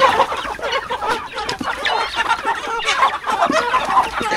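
Chickens and roosters cluck and squawk in rapid, agitated bursts as they fight, a dense, continuous flurry of close calls with no voices.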